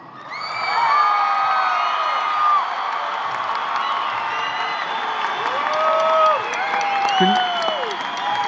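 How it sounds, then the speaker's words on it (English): Graduation audience at the Mountain View High School 2018 ceremony applauding the class of 2018, with sustained clapping mixed with cheers, whoops and shouts from a large crowd, loud and continuous throughout. "Let's give them a round of applause."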